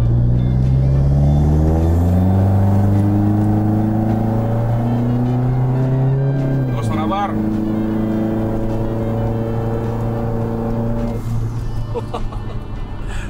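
A tuned BMW M4 xDrive with a turbo, 44 mm spec and about 304 hp accelerates hard. A loud, rising engine whine climbs through the revs, drops twice at gear changes and climbs again, with a few voices faintly underneath.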